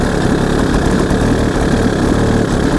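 A cheap small outboard motor for a tiny boat or kayak runs just after being started, a loud, steady, close-up engine drone with a rough knocking vibration and no talking over it.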